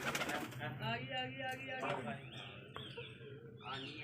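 Soft, throaty cooing of pigeons repeats close by at a pigeon coop with a breeding pair and chicks, with a person talking over the birds for much of the time.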